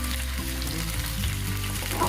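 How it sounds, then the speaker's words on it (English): Vegetables sizzling in a hot pan while cooking a lemon pasta primavera, a steady close frying hiss with crackle that runs continuously, no talking. "Ooh, listen to that sizzle."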